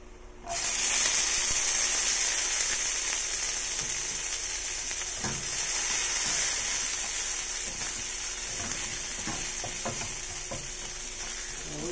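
Garlic frying in a pan gives a steady, close sizzle that begins suddenly and stays strong, with occasional scraping stirs heard over it.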